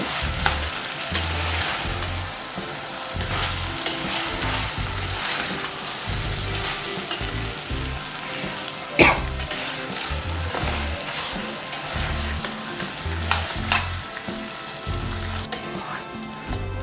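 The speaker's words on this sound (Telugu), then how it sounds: "ఈ మటన్ని ఆయిల్లో కొద్దిగా ఫ్రై చేద్దామండి" Mutton pieces frying in hot oil for a curry, a loud, steady sizzle with crackling spatter and occasional stirring scrapes throughout, no voices.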